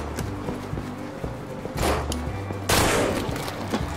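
Gunfire in the zombie video game No More Room in Hell: quick rattling shots, then two louder, sharper bursts near the middle and end, with no talk over it.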